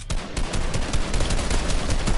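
Rapid, loud automatic gunfire rattles continuously in a Fortnite-style video game, dense overlapping shots with no pause and no talk.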